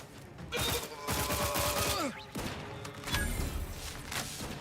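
A burst SMG in Outer Worlds 2 fires several loud, close bursts of rapid gunfire, separated by short pauses, over game sound effects.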